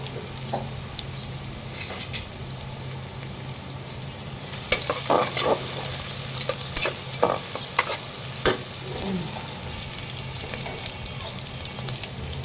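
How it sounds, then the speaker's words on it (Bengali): Onions fry in hot oil in a pan, a steady close sizzle broken by bursts of stirring scrapes and utensil clinks, with no voices. "চুলে তেল দিয়ে পেঁয়াজ দিয়ে দিলাম"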